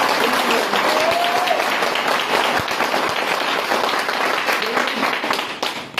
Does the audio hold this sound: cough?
no